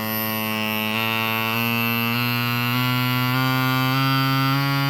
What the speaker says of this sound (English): That is a strange starting sound.